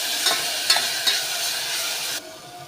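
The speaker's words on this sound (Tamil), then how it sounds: "இஞ்சி பூண்டோட பச்சை வாசனை போகிற வரைக்கும் லைட்டாக வதக்கி விட்டுக்கலாம்" Ginger garlic paste and green chilli sauté in hot oil for mutton bone soup, a steady close sizzle broken by a few sharp spatula taps before the frying noise abruptly drops quieter near the end.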